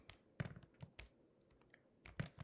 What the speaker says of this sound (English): So I'm going to type that in my calculator.